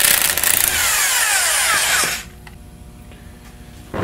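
A power tool with a 3/8-inch 12-point thin wall socket whirs loudly for about two seconds, removing the center support bolt from a Turbo 400 transmission, then stops, leaving quiet workshop ambience.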